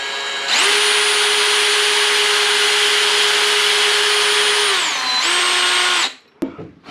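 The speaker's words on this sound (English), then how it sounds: "So pre-drill your hole, keep it nice and straight, otherwise you might break your drill bit" A power drill pre-drills a hole into a wooden skateboard deck, a loud close steady whine that dips in pitch briefly as it bites, resumes, then stops abruptly.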